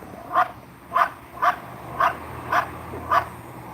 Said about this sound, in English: barking at the drone